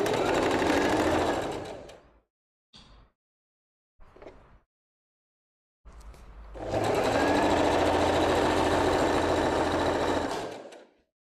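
A sewing machine stitches a cotton summer dress in bursts: a long run, a few short stabs and pauses, then another long steady whirring run, loud and close.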